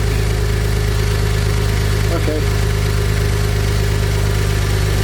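A Maserati Ghibli SQ4 engine idles in a steady low drone, with a brief voice speaking over it partway through.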